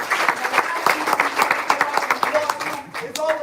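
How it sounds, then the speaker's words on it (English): A crowd at an Amazon networking event clapping, uneven clustered claps from a modest gathering, fairly close, with a voice speaking over the applause near the end. "let's give them a round of applause too"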